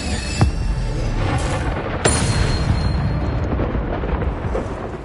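An Incendio fire spell cast in Hogwarts Legacy on PS5 during combat, a deep booming blast with a sharp crack, followed by a rumbling roar that holds loud over the battle noise.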